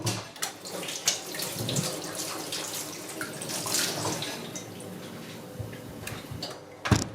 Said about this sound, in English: Yeah, so just easily rinse it off.